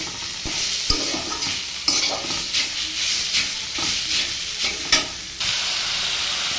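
Cumin and black cumin seeds sizzle in hot oil with mixed vegetables such as taro, radish, green papaya and potato, giving a steady close frying hiss broken by repeated scraping stirs of the spoon against the pan.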